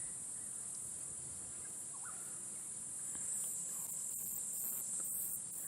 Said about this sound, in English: I'm sure you heard that, grasshopper coming past us, the stridulating.